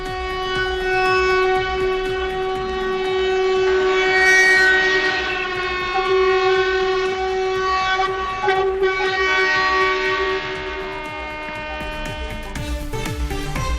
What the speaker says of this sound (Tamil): 2 அம்ரித் பாரத் எக்ஸ்பிரஸ் ரயில்களையும் பிரதமர் மோடி கொடியசைத்து தொடக்கி வைத்தார்